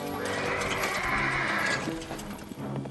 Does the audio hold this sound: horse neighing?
yes